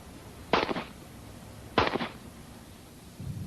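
Two sharp gunshots ring out about a second apart, each with a short echoing tail, fired by a shooter in turns, followed by a faint low rumble.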